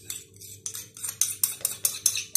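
Yogurt spooned into a bowl for lemon yogurt sorbet, a run of about eight sharp clinks and scrapes of a spoon against the bowl in a steady rhythm, close and fairly quiet.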